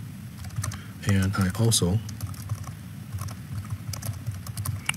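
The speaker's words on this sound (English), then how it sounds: "When I'm typing too, I always type O before T." Typing on a computer keyboard: scattered light key clicks run through the clip at a steady, moderate level, with a short stretch of speech near the start.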